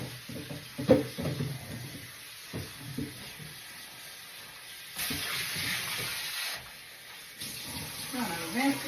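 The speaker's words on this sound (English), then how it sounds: "I'm gonna rinse these bad babies off." Tap water running over red potatoes being rinsed in a kitchen sink, a soft steady splashing with small clunks, while a person talks over it.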